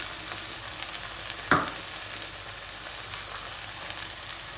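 Crushed tomatoes and spices, cumin among them, fry in a pan with a steady close sizzle, and one sharp scrape or clatter from stirring cuts through near the middle.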